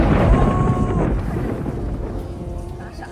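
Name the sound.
thunder from a lightning strike in rain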